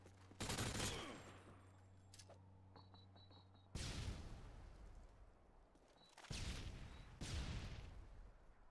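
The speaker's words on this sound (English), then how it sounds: "Who's shooting at me?" Gunfire in the video game Modern Warfare 2 (2009), with several loud bursts of shots separated by quieter stretches, plus a low hum and a few faint beeps between them.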